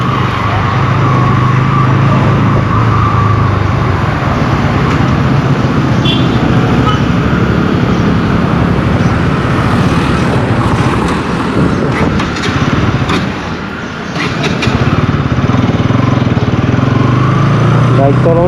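A new motorbike on a test ride around Kaskikot, its engine droning steadily and loudly throughout with strong wind buffeting, a brief dip near the end and faint voices in the mix.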